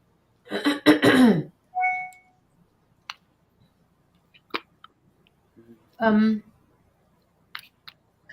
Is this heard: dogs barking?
no